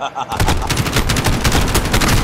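Rapid automatic gunfire from a turret in the Modern Warfare video game rattles in a dense, continuous burst, loud and close, starting abruptly after a brief quiet moment.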